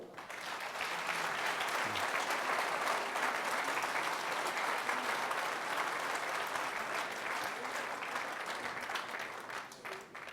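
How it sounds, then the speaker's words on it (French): A seated audience at a New Year's greetings ceremony applauds young people walking down the stairs, a broad, steady wash of many hands clapping that holds for about ten seconds and thins slightly at the end. "On peut les applaudir."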